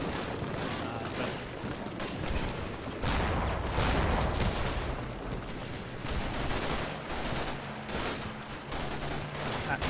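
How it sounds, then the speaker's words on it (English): Gunfire in the war game Combat Mission Shock Force 2, with dense bursts of shots and rumbling battlefield noise rolling continuously, some heavier thuds standing out among the crackle. "that's Clockwork Rex taking some pot shots at the team that's in that build and that MG team"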